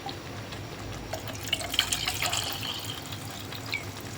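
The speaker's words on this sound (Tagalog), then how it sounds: "Lagyan natin ng kaunting tubig" Water runs from a tap into a cooking pot for spaghetti bolognese, a close, steady trickling pour with small splashy peaks that swell midway, heard alone without speech.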